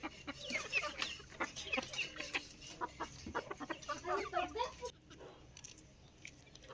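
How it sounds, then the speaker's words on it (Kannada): Village-farm chickens clucking in a backyard garden, several birds chattering in busy, overlapping bursts at moderate distance over faint background noise, the clucking ending abruptly near the close. "ಕೋಳಿ, ಹಸು ಎಲ್ಲ ಇದೆ"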